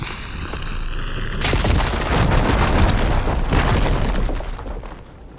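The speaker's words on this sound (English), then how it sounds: "Should be able to blow up that fire beam" In Horizon Forbidden West, a loud blast blows apart a fire beam, followed by a rumbling, crackling roar that fades after a few seconds. There is no talking.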